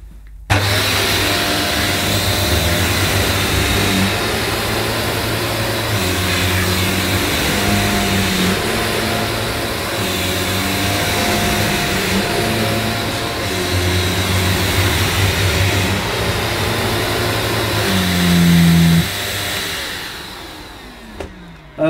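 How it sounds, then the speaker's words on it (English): A Shark Lift Away TruePet corded upright vacuum with a standard brush roll runs on Saxony carpet, a loud steady motor whine and airflow roar held throughout, with a brief strained rise in pitch near the end. "This is a standard brush roll machine, and on maximum suction on the handle, I couldn't move it."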